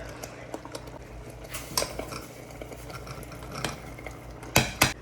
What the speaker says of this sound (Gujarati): હવે આમાં નાખીશું બધા શાકભાજી. ઓકે, સૌથી પહેલાં બીન્સ